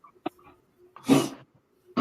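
A small female dog with a cold gives a few short, sharp cough-like bursts indoors. There is a brief pop first, then a louder rasping burst, and another that starts just as the clip ends.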